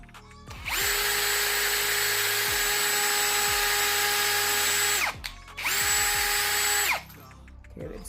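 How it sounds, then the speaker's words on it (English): A power drill fitted with a small bit runs on a clamped workpiece while a trellis planter is built, whirring loud and steady for about four seconds, stopping briefly, then spinning up again for a second shorter burst. "let's start with the small drill bit"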